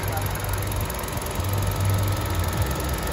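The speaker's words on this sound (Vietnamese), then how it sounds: "máy nổ rất là êm này." A Hyundai Accent car engine idles smoothly with a steady low hum and a faint rhythmic pulse, running continuously throughout.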